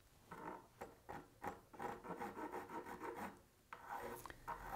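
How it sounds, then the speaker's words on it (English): A razor saw cuts through a sawdust fill in a chipped guitar fretboard, producing quick rhythmic rasping strokes up close, steady and fairly soft, with a short pause partway through. "I'll start out with a razor saw to get close to the wood because it cuts in a way that I like"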